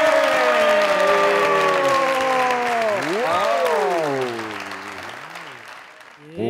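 Studio audience applause on the comedy talk show Mazaq Raat runs steadily beneath a loud, drawn-out voice calling over the crowd, then thins before a final burst.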